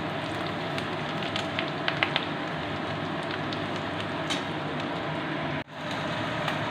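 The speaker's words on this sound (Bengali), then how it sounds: "প্রথমে কড়াইতে তেল, পেঁয়াজ, গরম মশলা দিয়ে তেজপাতা দিয়ে ভাজছি।" Onion, garam masala and bay leaf frying in oil in a wok for a chicken curry, making a steady, dense crackling sizzle close by, with no voices and one brief dip near the end.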